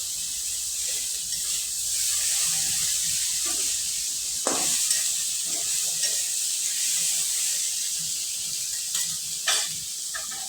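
Fish and eggplant fry in oil with a steady hissing sizzle and occasional scraping and knocking of a utensil in the pan, close and even in level.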